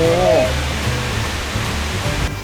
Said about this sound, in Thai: นี่น้ำตกเงาโอ้โห